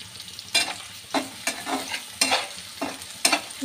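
Chopped onions and green chillies frying with bay leaf, cardamom and cinnamon in a pan, a soft sizzle broken by several loud, rhythmic spatula scrapes and stirs, close up with no talking.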